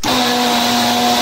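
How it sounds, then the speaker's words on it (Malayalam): A mixer grinder blends star fruit with cold water in a covered jar, giving a loud, steady motor whine with a strong sustained hum that runs without a break for the whole moment, with no voices. "എന്നിട്ട് ആ ജാറ് മൂടിയിട്ട് അത് മിക്സിയിൽ വെച്ച് ശരിക്കാണ്ട് അടിക്കുക."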